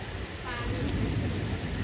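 Steady rain hisses close by with a low rumbling undertone, dense and continuous for a couple of seconds.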